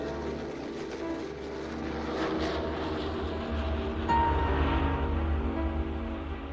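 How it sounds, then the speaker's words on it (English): A C-130 propeller aircraft in flight, rendered as a cartoon sound effect: a loud, steady engine drone that holds for the whole stretch and swells slightly toward the end, with no voices. "The C-130 is underway."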